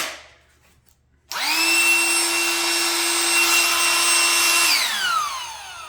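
A Ryobi battery-powered inflator runs loud and close in a workshop with a steady whining motor and rushing air. It spins up abruptly, holds for several seconds, then winds down as it is switched off.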